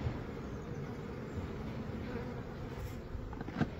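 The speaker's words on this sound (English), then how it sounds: "Okay guys, bees are everywhere." Honey bees swarming during a beehive removal, a dense, steady buzzing hum from many insects close by, continuous throughout with no voices.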